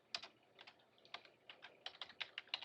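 Keys clatter on a computer keyboard during work at a Solaris 11.3 command line, a close, fairly quiet run of irregular clicks and short bursts with brief pauses between them.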